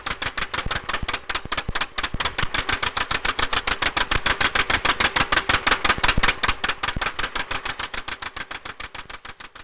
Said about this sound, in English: A 2-cylinder tractor also has a distinct pop-pop sound.